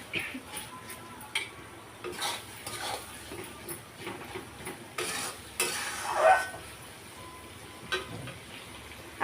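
Desi chicken curry masala with softened tomato stirred in a pan, a spoon scraping and clinking in irregular strokes over a low sizzle, close and moderately loud, with no talking.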